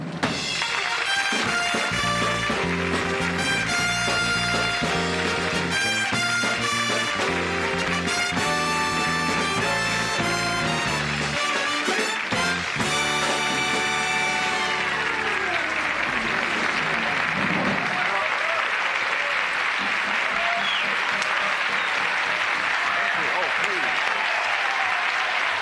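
Studio audience at the 1970 Dick Cavett Show applauding loudly and steadily after the host's introduction, with the orchestra playing over it for the first fifteen seconds before the clapping carries on alone.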